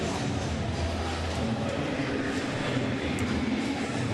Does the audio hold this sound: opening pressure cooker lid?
no